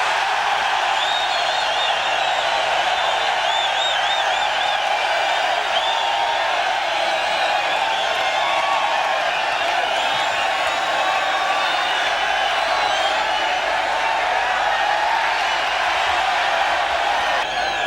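A crowd cheering for endurance race winners Russell Ingall and Larry Perkins, a steady dense roar of voices and whoops held at an even level throughout.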